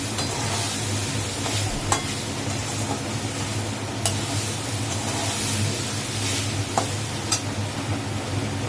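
Lentil khichuri ingredients sizzle loudly in a pan while a spatula stirs and scrapes, with a steady frying hiss and occasional sharp scrapes and taps close by.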